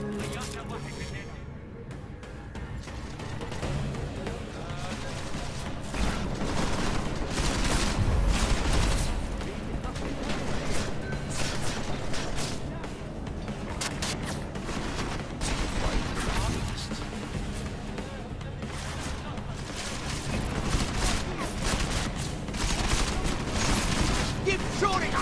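Rapid gunfire in Deus Ex Mankind Divided, dense bursts of shots and impacts crackling throughout a combat scene, loud and continuous, with people talking over the shooting.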